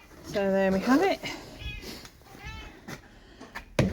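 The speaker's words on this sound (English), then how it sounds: "The two barn cats" Barn cats meow close by, one long drawn-out meow followed by shorter ones, with a person talking over them.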